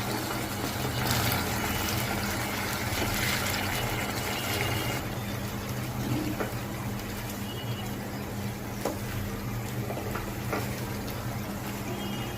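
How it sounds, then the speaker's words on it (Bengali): Vinegar, about two tablespoons, poured into homemade mango pickle, giving a steady, soft liquid wash that runs without a break under a constant background hiss. "দিয়ে দিচ্ছি 2 টেবিল চামচের মতো ভিনেগার।"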